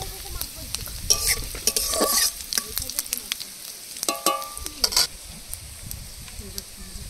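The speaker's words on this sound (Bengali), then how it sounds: "তেলের মধ্যে দিয়ে দেবো শুকনো লঙ্কা, তেজপাতা, জিরা, গোটা গরম মশলা একসাথে ফোড়ন দিয়ে দেবো।" Dried chili, bay leaf, cumin and whole garam masala spices crackling and sizzling as they hit hot oil for a duck curry tempering, with bursts of spattering and stirring up close.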